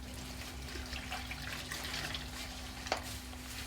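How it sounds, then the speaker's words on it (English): Dyed cloth is sloshed and rinsed in a basin of water with detergent, giving a soft, continuous wet swishing with one small splash, close by over a faint steady hum. "I'm going to give it a rinse with the detergent"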